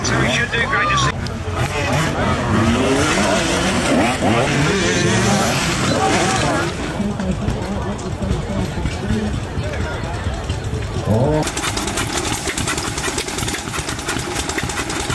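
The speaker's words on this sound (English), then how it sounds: "here's that Enduro based bike" An enduro-style motorbike at a New Zealand agricultural show, its engine running and revving loudly amid a steady crowd hubbub, with spectators talking throughout.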